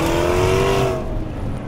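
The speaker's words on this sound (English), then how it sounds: "is the sound of a bespoke titanium Lister exhaust" A Lister LFT-C 666, a tuned Jaguar F-Type fitted with a bespoke titanium exhaust, revs loudly and close by, its engine note rising and then falling away across a short burst.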